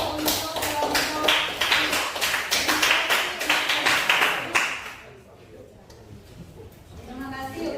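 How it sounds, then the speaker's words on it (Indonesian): A classroom of students applauds group 3 with brisk, close clapping for about five seconds before it fades. A voice speaks under the clapping. "kita berikan aplaus dulu untuk kelompok"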